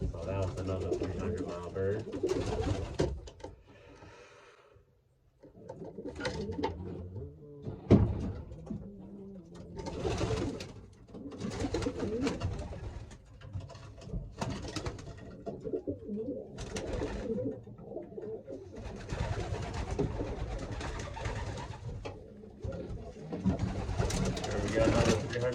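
Racing pigeons cooing inside a loft, soft repeated coos coming in bursts at close range, with someone talking at intervals over them.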